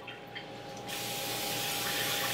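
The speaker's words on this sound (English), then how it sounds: "I'm going to spray a sheet pan with some cooking spray." Cooking spray hisses steadily from a can onto a sheet pan, a close, continuous burst that starts abruptly after a short quiet moment and keeps going to the end.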